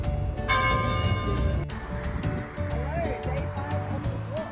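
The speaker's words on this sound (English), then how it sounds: "Listen to the bells toll." Church bells ring out with resonant, overlapping tolls over outdoor background noise and faint voices.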